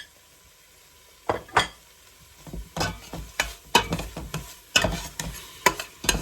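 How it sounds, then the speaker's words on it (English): Green masala paste of coriander, garlic, ginger and green chilies stirred in a pan for chicken korma: quiet at first, then a run of close scraping, knocking utensil strokes against the pan over a light sizzle. "And then we add our lovely green masala paste, which was made up of coriander, garlic, ginger and green chilies. Give that a good stir."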